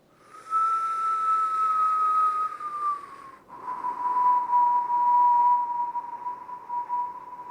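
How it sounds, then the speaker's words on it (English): A person whistles a long steady tone during a Kundalini yoga breathing exercise, close and clear, holding one pitch, then dipping briefly and continuing slightly lower, with no talk. "And if you can't whistle, just pretend you can."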